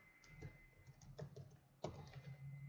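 Quick bursts of keystrokes on a computer keyboard while code is entered, irregular clusters of close, crisp clicks over a faint steady hum.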